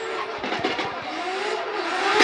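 A race car howls at full throttle during qualifying at Fuji International Speedway in Shizuoka, the engine note climbing steadily and loudly as it accelerates close by.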